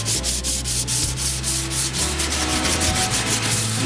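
Hand sanding of chassis parts from a 1948 Chevy Cabriolet: a steady, loud rasping scrub in quick regular back-and-forth strokes, close up and continuous, with no voices.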